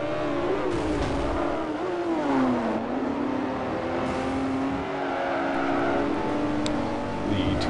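A 2008 BMW Z4 M Coupe's engine in a racing game revs loudly and continuously, the pitch sweeping up and down through gear changes with a steady roar throughout.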